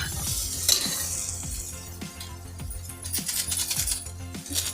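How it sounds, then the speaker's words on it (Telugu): Coriander and chili powder fry in a pan for Maggi masala rice bath, with repeated metal clinks and scraping stirs over a steady sizzle close by. "ధనియాల పొడి ఇది వేసి కొంచెం ఈ పచ్చి స్మెల్ పోయే వరకు ఫ్రై చేసుకోవాలి."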